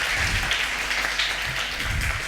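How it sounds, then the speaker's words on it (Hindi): Studio audience on a Ramadan iftar TV show breaks into applause, a steady, dense wash of many hands clapping at moderate level for a couple of seconds. "तालियां"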